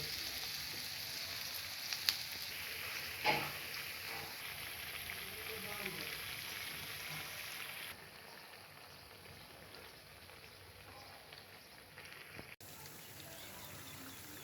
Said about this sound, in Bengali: এখন আমি পাকোড়া শেপ দিয়ে সেগুলো ভেজে নিব।